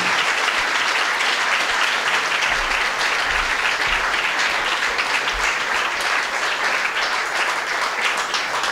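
Audience applause at the Budapest Pride opening, a dense, sustained clapping from a large crowd throughout, with no talk over it.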